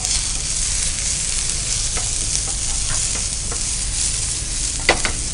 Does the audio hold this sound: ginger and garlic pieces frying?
yes